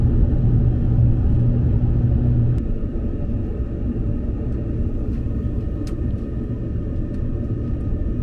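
A Nishi-Kyushu Shinkansen train pulls out of Saga station, heard from inside as a steady low rumble that shifts and settles after a couple of seconds, with faint clicks and no talking.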